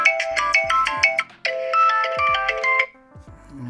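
Ringtone of a Unihertz 8849 Tank 3 Pro smartphone, a loud, bright melodic phrase of bell-like synth notes played twice in quick succession, with a brief pause between and a soft tail at the end.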